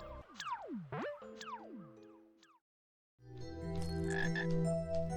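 Cartoonish frog croaks from a video game about guiding an army of frogs to fight slimes: a few sliding, bouncy croaks, a brief silence, then a denser burst of layered croaking over game music.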